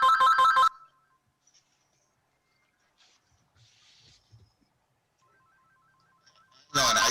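A phone's ringtone sounds during a town board meeting, a loud warbling burst of repeated electronic rings at the start, then near-quiet with faint rustles before the ringing cuts back in at the end.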